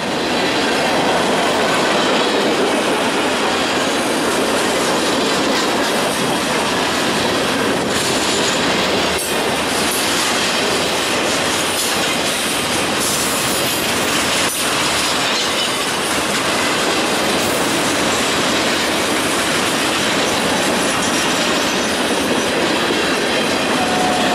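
Freight train rolling past on the rails, a loud continuous roar of wagons with wheel squeal and clickety-clack throughout, close by and steady for the whole stretch, no voices.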